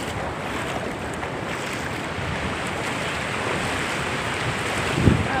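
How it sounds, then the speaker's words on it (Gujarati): Strong-flowing water of the Ambedi river, a steady broad rushing roar with wind buffeting the microphone, continuous and close, with no talk. "પાણી જેટલું જાય છે જો તો"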